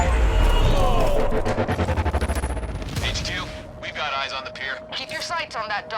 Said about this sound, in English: The civvies heard gunfire.